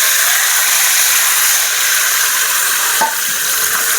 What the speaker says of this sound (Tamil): தக்காளியை நல்லா வதக்கணும்